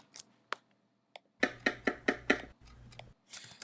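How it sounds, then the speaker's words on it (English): A knife chops food on a board in a quick burst of five crisp strokes, close and fairly quiet, after a few scattered single taps and followed by softer scraping. "right now, when he's chopping, his arm is like basically like this"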